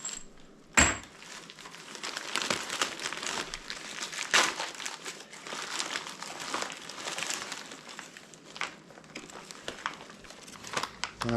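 Plastic packaging crinkles and rustles on and off at close range, with a few sharper crackles and faint handling noises in between.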